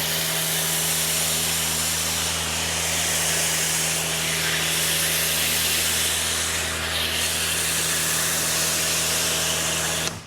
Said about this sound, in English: let's foam it with our pH neutral shampoo